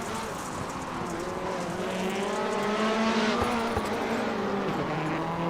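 A rallycross race car in a sim racing game at Sonoma holds a loud, continuous engine drone with shifting, rising tones as its tires work over dirt.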